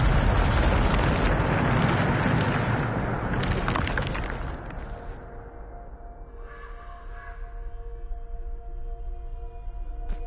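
Blasting spell explosion in the game Hogwarts Legacy: a loud, roaring burst with crackling debris that fades into a quieter tonal hum.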